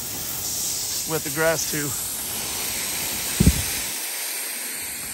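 Pressure washer spraying water onto a house and the surrounding grass in Tennessee, a steady broad hiss running throughout, with a person talking briefly over it.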